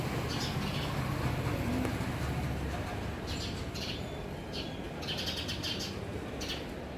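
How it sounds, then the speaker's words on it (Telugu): House sparrows chirp in short, scattered bursts through the middle and later part, set against a steady outdoor background hum. "ఊరు పిచ్చుకలు అంటారు వీటిని."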